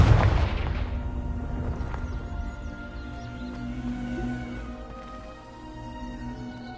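A Confringo spell explosion in a Harry Potter video game opens with a sharp loud blast that rumbles and decays into a fading, ringing tail.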